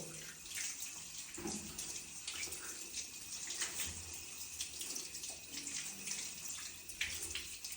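Tap water runs steadily while feet are washed for ablution, a close, continuous splashing stream with small shifts as the feet move under it, no voices.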